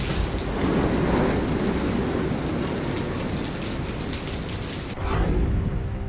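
Heavy rain pours steadily ahead of Cyclone Yaas on the Odisha coast, a dense, continuous hiss of downpour with low rumbling beneath and a brief break near the end.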